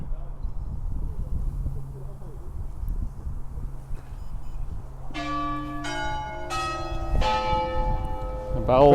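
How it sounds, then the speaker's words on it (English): Clock tower bells in Tunstall start ringing over quiet street ambience, a few bright, resonant strikes one after another with lingering overtones, fairly close and clear. "The bells of the clock tower."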